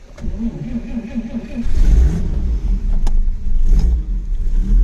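A 1946 Chevy Stylemaster replica staff car started cold with a foot starter: a short cranking churn, then the engine catches and revs up into a loud, rough, uneven idle close by.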